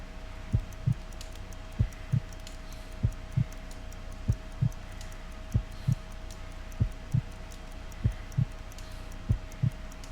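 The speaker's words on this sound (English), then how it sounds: "I need to concentrate and count the heartbeats." Heartbeat in the video game Sherlock Holmes: Crimes and Punishments, a slow, steady lub-dub pulse of about eight double thumps over a low hum, close and even, with no talking.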